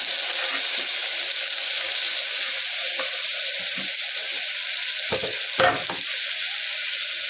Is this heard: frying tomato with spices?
yes